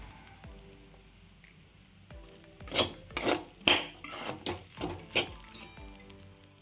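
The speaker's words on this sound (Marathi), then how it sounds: "छान परतून घेते आणि शेंदी मीठ टाकत आहे मी." Overnight-soaked sabudana (tapioca pearls) being sautéed in a pan with rock salt, heard as a run of sharp spatula scrapes and light clinks against the metal pan, clustered in the middle and fairly close, with no talking.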